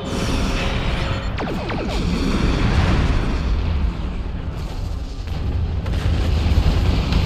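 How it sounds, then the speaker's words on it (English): Loud, continuous rumbling blasts and booming explosions in the video game Star Trek Online roll one into another, dense and heavy with no pauses. "Explosions."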